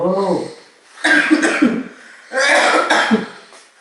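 A person coughs after eating honey, giving harsh throaty bursts in two main clusters with a short voiced sound just before, close and loud.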